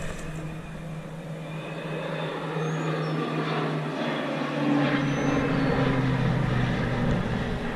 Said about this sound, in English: right here's the plane.